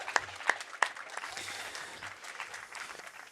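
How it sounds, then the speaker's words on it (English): A round of applause for Norway's Culture Minister at a live Arctic Night show, a few sharp claps standing out at the start before settling into a thin, steady patter of clapping from a modest crowd. "Big round of applause for her."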